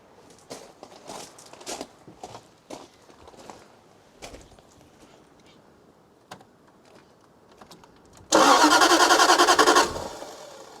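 Jaguar XK8 engine with half its injectors disabled, cranking and nearly starting: after some faint clicks and small knocks, a loud, steady churn of cranking bursts in near the end and lasts about two seconds before cutting off.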